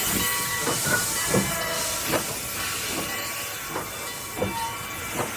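Steam train hissing at a railway station in Itajubá, southern Minas Gerais, with a steady broadband hiss and a series of soft rhythmic chuffs and clanks, fairly near and continuous, with no voices.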